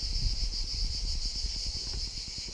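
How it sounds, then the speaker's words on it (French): Loud cicadas fill a forest with a steady high, buzzing drone, backed by a rapid low pulsing throb that keeps going without a break. "les cigales elles sont déchaînées"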